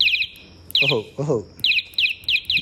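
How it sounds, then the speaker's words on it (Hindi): A bicycle horn gives quick, high bird-like chirps in short bursts of three or four, loud and close, with a man's brief exclamations in between. "इसमें हॉर्न भी है देखो"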